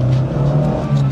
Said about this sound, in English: Let's see how the acceleration is.